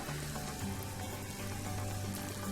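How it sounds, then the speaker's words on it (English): Chicken frying in a pan gives a faint, steady sizzle beneath a low hum, continuous and quiet with no voices. "We're going to fry this up till it's golden brown"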